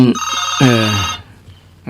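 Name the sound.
phone ringtone of an incoming call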